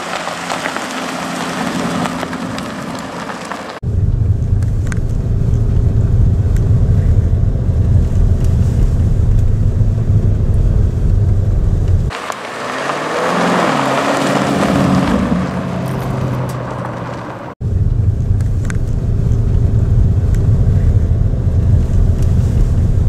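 A 2021 Lamborghini Urus drives along a desert dirt road, with a steady loud rumble of engine and road noise buffeted by heavy wind, shifting in sections as the car moves.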